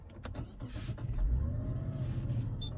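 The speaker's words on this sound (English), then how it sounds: "Let's turn on the car." A Mazda CX-90 starts up, a low engine rumble rising and settling into a steady hum with faint electronic chimes, no talk over it.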